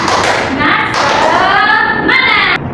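An elementary classroom carries out a rhythmic spirit-clap chant: a group of voices chants together over steady hand claps and thumps, loud and close, continuing through the whole stretch.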